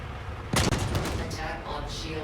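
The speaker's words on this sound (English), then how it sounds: "Okay, fire when ready, Flicka" Weapon fire striking ship armor during a ballistic damage test in the game Star Citizen, a sudden loud burst of rapid impacts that continues as a rattling barrage, with faint talk in the background.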